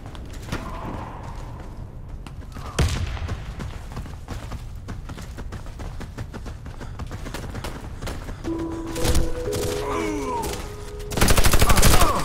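Gunfire crackles through a round of Warface PvP, a multiplayer shooter, with scattered shots and a louder burst near the end, plus a brief sharp bang midway that fits a grenade.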